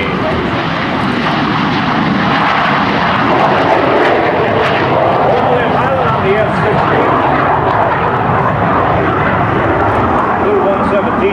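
A Lockheed F-117 flies past at the 2005 Andrews AFB airshow, its loud, broadband engine roar sustained and fairly steady for the whole stretch, with an announcer's amplified voice speaking over it.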